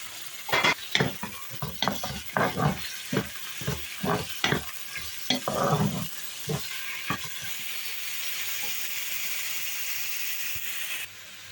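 Chicken sizzles loudly in a pan with garlic while a utensil scrapes and stirs in bursts, then the frying settles into a steady hiss.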